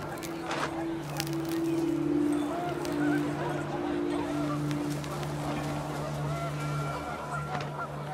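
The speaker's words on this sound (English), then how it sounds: "The wind picked up, and panicked geese appeared and quickly went." Panicked geese honk repeatedly in a windy outdoor scene from the video game What Remains of Edith Finch, a steady chorus of overlapping calls over a breezy background.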